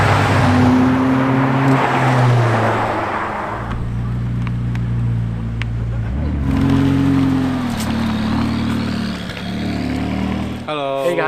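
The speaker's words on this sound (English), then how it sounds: "supercar owners get together at different remote spots of the island and they take their cars for a spin" Supercars driven by their owners at a remote spot on Hong Kong Island, with loud, close engine and road noise running throughout and engine tones rising and falling as the cars pass and accelerate, under some voices.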